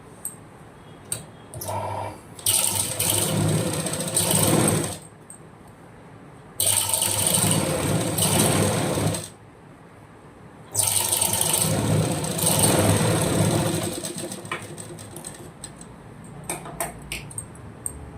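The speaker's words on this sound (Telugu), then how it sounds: "ఇది ఇలా ఫోల్డింగ్ చేసి ఇలా ఒక కుట్టు వేసుకొని తర్వాత హెమ్మింగ్ చేసుకోవాలి." An electric sewing machine stitching and hemming a folded blouse edge runs in three long, steady motor bursts separated by short pauses, close and fairly loud with no talking.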